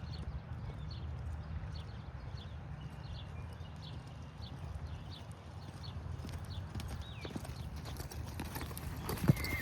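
Horse hooves at a lope during riding practice, a steady rhythmic clip-clop of footfalls close by over a low, rumbling outdoor background, with no talking.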